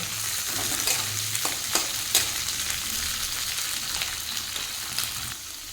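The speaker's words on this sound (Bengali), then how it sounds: "এবার শিমগুলো দিয়ে ভালো করে নাড়িয়ে ভেজে নেব।" Sliced flat beans (shim) frying in hot oil in a pan, a steady soft sizzle with intermittent scraping clicks of a spoon stirring, no voices.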